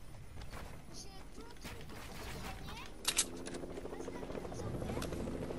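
A helicopter in a video game thrums continuously at a distance, with brief clicks and game effects over the rotor drone and voices talking over it.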